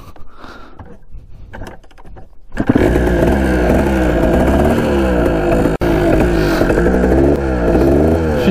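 A Kawasaki dirt bike is kicked over, with faint clunks and a short sputter before the engine catches and settles into a loud, close, rough running rattle with uneven revving.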